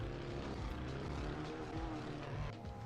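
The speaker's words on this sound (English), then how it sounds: "the way that exhaust sounds going through the grass actually sounded sick" Race car exhaust in the iRacing sim while cutting through grass during a GT3 or IMSA session, a steady, loud engine drone with layered harmonics that holds for about three seconds, with no voices.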